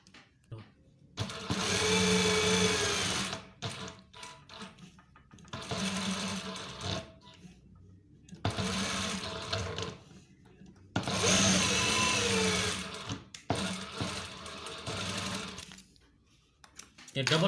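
A sewing machine stitches through a double layer of fabric in bursts of loud, fast whirring, each run lasting a few seconds and separated by short pauses. A voice talks quietly in the gaps.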